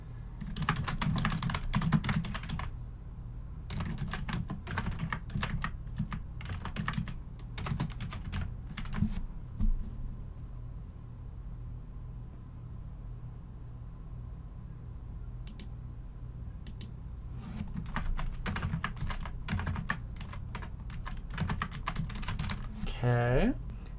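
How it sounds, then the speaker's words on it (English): Bursts of rapid keyboard typing come and go, with clicky keystrokes in clusters separated by quieter pauses and faint room noise. "I'm just typing in my information"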